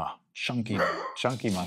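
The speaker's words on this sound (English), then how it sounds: "Sorry for my dogs barking, if you heard that in the background." Dogs barking in the background of a room, a few brief bow-wow barks close behind someone talking steadily over them.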